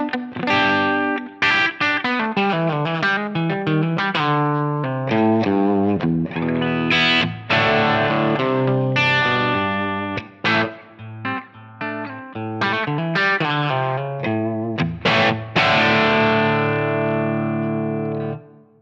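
Electric guitar through a Line 6 Helix Brit 2203 amp model, played as loud, distorted chords and single-note lines with chorus and reverb effects, close and continuous with no talking.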